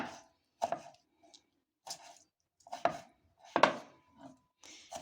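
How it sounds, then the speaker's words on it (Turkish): Sharp knife chops through peppers and onions on a cutting board, coming in quick bursts of two or three strikes separated by short pauses, close and fairly loud. "Şu anda da doğruyorum"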